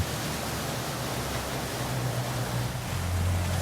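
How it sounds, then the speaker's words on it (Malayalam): A boat nears the shore of Bandos in the Maldives amid a steady, close wash of waves and water noise, with a low engine rumble beneath. "ഞങ്ങളുടെ ബോട്ട് ബാൻഡോസിന്റെ തീരത്തേക്ക് എത്തിയിരിക്കുന്നു."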